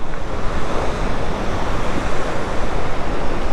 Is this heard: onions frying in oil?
no